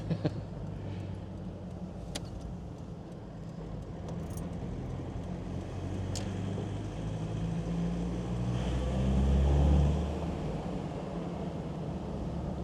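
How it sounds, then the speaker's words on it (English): A Land Rover Defender 2.4 with a Stage 3 tune and Demand Engineering aftermarket exhaust rumbles with a deep exhaust note, the drone building in intensity toward the end, with a few light rattles and clicks. "Quite a nice sound from that exhaust, the Demand Engineering exhaust."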